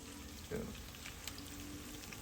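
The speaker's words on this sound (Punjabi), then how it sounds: "ਲਓ ਜੀ ਤੜਕਾ ਲੱਗ ਗਿਆ" Tadka tempering for sarson da saag sizzles as spiced fat hits the greens, a steady close frying hiss with a brief louder burst near the start.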